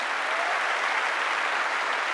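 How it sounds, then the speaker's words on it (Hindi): Steady, even audience applause fills the room at a Success Testimony event, a dense wash of many hands clapping at once with no voices over it. "प्लीज प्लीज जोरदार इनके लिए भी एक बार ताली हो जाए।"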